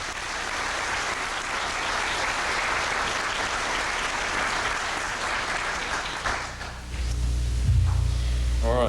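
Sustained applause from a crowd at a 1997 fire department recruit graduation ceremony, steady and dense for several seconds before thinning out, with a low rumble and a brief voice near the end.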